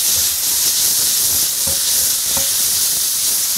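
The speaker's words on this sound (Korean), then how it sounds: "아까 저희가 분리해 놓으라는 쪽파 흰 부분이에요. 이걸 넣고 같이 볶아주세요." Scallion whites stir-frying over medium heat in a pan with oyster mushrooms, giving a steady loud sizzle and hiss with a couple of brief clinks, and no voices.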